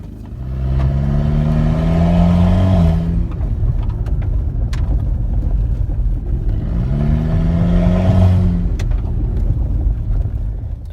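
With the exhaust disconnected from the turbocharger, a car engine roars loudly and raw, revving up twice in long rising sweeps with a steady heavy idle between them.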